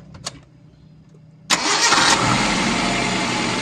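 A fuel-injected car engine cranks briefly after a couple of faint clicks, then catches and settles into a loud, steady idle close by.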